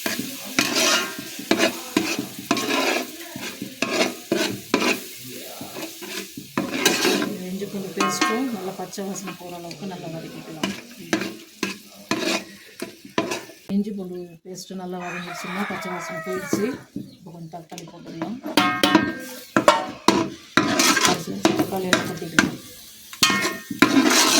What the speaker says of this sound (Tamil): வெங்காயம் பச்சை மிளகாய் நல்லா வதங்கிச்சுமா இப்போ இஞ்சி பூச்சி பேஸ்ட் போட்டுக்கலாம்